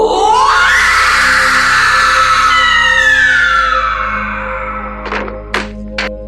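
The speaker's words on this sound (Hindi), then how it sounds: "राजन ने जैसे ही चीख सुनी" A horror-story sound effect: one loud, drawn-out scream sweeps downward and fades, then a few short, sharp knocks follow.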